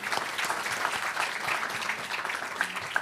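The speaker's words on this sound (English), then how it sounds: "please, very big applause to the audience" Audience applause at a G20 energy transition conference session, a steady wash of many hands clapping at moderate distance, sustained for about three seconds without speech.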